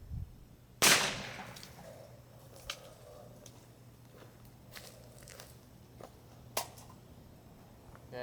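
A .22lr rifle fires at a car trunk lid, with one loud, sharp crack early on and a much fainter sharp tick later, against an otherwise quiet outdoor background with no talking.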